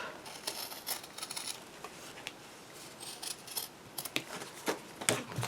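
Scissors cutting paper for a junk journal, close and quiet, a series of short snips and crisp rustles spaced irregularly, with a few sharper cuts near the end.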